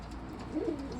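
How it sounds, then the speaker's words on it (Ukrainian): A low, soft coo from a tar-black pigeon with a white beak swells briefly in the middle, set against a steady background hum. "Ось такий смоляний голуб, Білоноси,"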